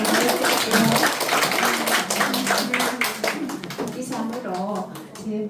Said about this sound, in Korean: 박수 한번 보내드릴게요.